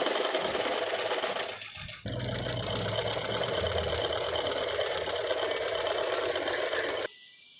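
Close, steady whirring of a sewing machine stitching the side seam of a child's dress, with a brief pause early on before the motor runs on and then cuts off near the end.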